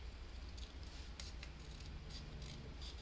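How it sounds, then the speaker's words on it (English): Scissors cut through a card piece along a marked line for a handmade congratulations card, a close series of crisp snipping and rasping strokes over about three seconds. "So then I'll just take this piece and I'll cut along it."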